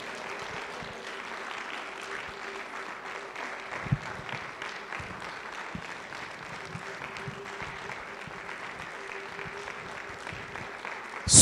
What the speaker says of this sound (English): Clap your hands and pray in tongues.